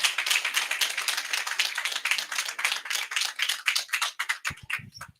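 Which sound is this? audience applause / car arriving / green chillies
audience applause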